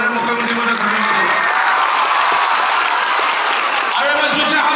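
An audience at an award ceremony in Jorhat gives sustained applause, a dense and even wash of clapping with a murmur of voices underneath.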